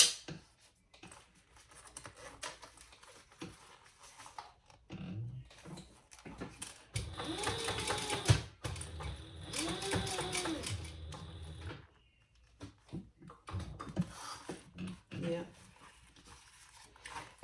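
A home sewing machine top stitches around a zipper on a sling crossbody bag, its motor whirring in bursts that rise and fall, with a steadier run in the middle, near and moderately loud amid occasional talking.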